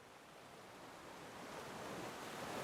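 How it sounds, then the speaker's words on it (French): Ocean waves wash in a soft, continuous roar of surf that slowly swells. The sound is faint and distant, with no voices over it. "sentir le mouvement des vagues"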